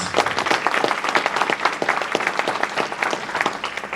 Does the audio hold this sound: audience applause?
yes